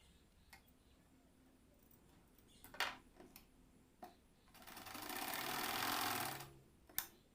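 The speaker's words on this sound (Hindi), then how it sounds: "अब किनारे किनारे यहाँ पर एक एक सिलाई और लगानी है आप लोग को।" Sewing machine stitching along fabric edges for a double katori blouse, running in one steady burst of rapid needle ticking, with scattered clicks and knocks before and after, close and fairly quiet.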